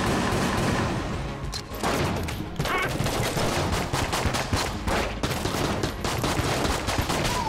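Rapid video game gunfire in Enter The Gungeon, a dense, loud barrage of overlapping shots and bursts that runs continuously with brief dips.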